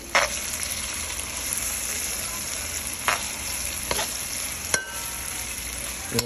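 Jerk chicken cooking in a pan on a stovetop, a loud steady sizzle broken by a few sharp clacks of a utensil against the pan, with no one speaking.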